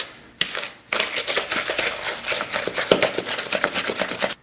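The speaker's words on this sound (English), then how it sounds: "I'm going to do it by hands with using the wooden spoon." Cake batter for a pound cake being creamed by hand with a wooden spoon, a close, rhythmic scraping and slapping that continues briskly after a short pause near the start.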